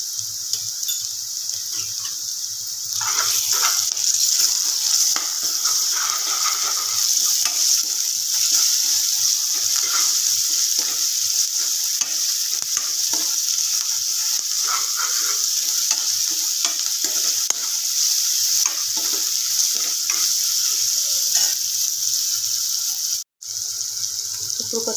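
Ginger garlic paste frying in a pan, a loud, dense, continuous sizzle like running water, with stirring scrapes throughout, close-up and steady with no talk.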